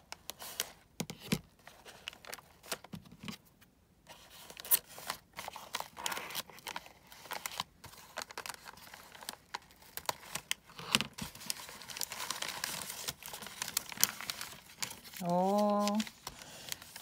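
A parcel of small paper boxes is opened up close, with bursts of paper crinkling, tearing and rustling, while a voice speaks now and then.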